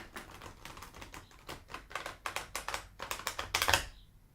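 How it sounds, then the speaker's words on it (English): Tarot cards being shuffled by hand, a run of quick crisp riffling bursts growing denser and louder before a final flurry, close and alone with no talk. "I've been sitting here just shuffling the cards."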